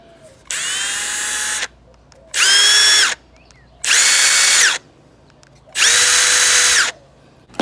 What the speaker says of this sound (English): So here's your fuel brushless impact.